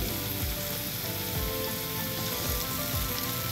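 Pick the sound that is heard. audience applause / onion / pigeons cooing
onion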